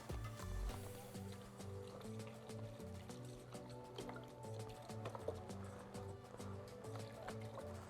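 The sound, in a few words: pouring beef broth into a crockpot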